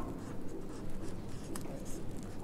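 A pen scratches across paper while filling in an accounting ledger entry, a soft continuous scribbling buried under steady background noise.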